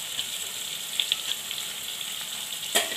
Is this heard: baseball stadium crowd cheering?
no